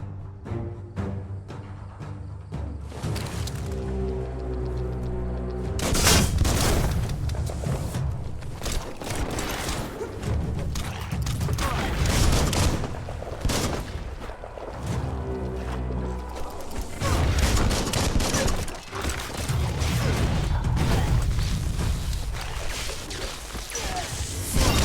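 Explosive blasts and crashing impacts from a bomb lobber firing in the video game Biomutant, loud bursts recurring over a dense, busy game soundtrack with no talking.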